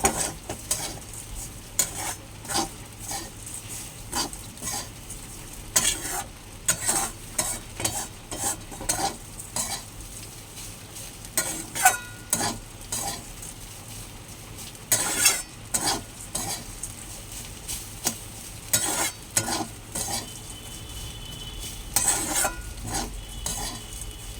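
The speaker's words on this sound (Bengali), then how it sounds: "এইবারে এটাকে নাড়বো।" Food frying in a pan is stirred with a utensil, giving repeated scraping and clinking strokes over a steady close sizzle that continues throughout.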